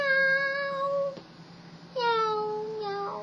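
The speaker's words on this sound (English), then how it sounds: "Meow, meow." Cat meowing, two drawn-out, clear meows separated by a short pause, close and fairly loud against a quiet background.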